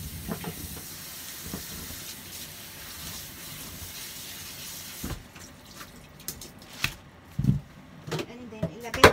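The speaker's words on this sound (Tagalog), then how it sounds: "hugasan ko muna siya guys" Radish and carrots are washed under a running tap, a steady hiss of flowing water for the first half, then scattered splashes and clunks in a sink as a person talks.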